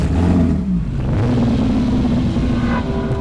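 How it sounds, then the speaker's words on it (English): A loud Nissan racing car engine roars and revs continuously during a race, with a deep, throaty tone that shifts pitch as it accelerates. "Very grunty Nissan engine in the back"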